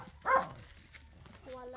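A dog gives one short bark, fairly near, in a quiet rural village setting, followed by faint background sounds and a brief voice-like tone.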